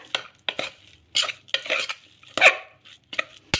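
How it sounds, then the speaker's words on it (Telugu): Spoon scraping and slapping through a dough mixture with chopped onion pieces in a bowl, a series of short, close, wet stirring strokes in an irregular rhythm with quiet gaps between. "ఇలా వేసుకొని ఇదంతా కూడా మళ్ళీ ఒకసారి బాగా కలిపేసుకుందాము"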